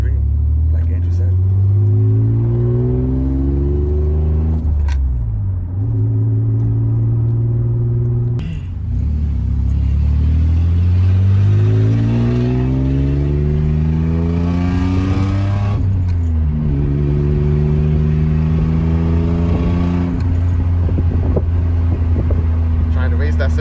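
Engine of a 1985 Nissan 300ZX with a newly replaced power steering pump, steadily rising and falling as the car drives through a test turn, with people talking throughout.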